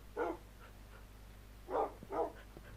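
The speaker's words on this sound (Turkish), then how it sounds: "Bol bol köpek." Dogs bark in the Minecraft video game: one short bark, then a quick pair of barks, fairly faint over a low steady background hum.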